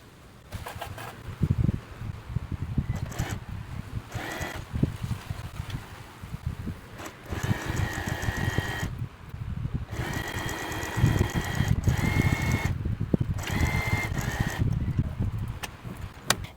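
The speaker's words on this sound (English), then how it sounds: "And then we sew it from the hem to the notch with 1 centimeter seam allowance." A sewing machine stitches a blouse seam from hem to notch in bursts of rapid whirring, with short pauses between runs and a fairly close, moderate level.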